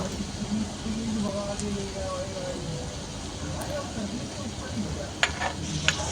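Fish frying in a pan over a firewood cooking fire, giving a steady, close crackling sizzle that runs the whole time beneath a person talking, with a couple of sharper pops near the end.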